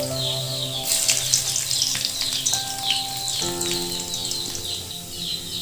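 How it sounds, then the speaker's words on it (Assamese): Garlic drops into hot oil in a wok and fries with a bright, crackling sizzle that flares at the start and keeps popping steadily, close and alone. "তেলখিনি গৰম হৈ গ'ল এতিয়া মই ইয়াত দি দিম ৰচুনখিনি"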